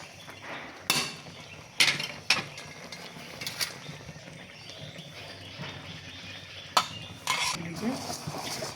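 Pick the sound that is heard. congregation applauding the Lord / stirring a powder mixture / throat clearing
stirring a powder mixture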